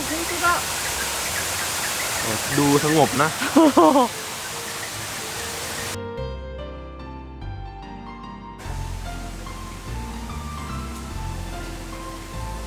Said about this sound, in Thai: เอ้ยมีน้ำตกด้วยเสียงน้ำตกนี่นะ